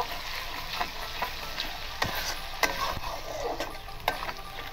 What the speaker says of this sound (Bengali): এবার এটাকে ভালো করে নাড়িয়ে নেব।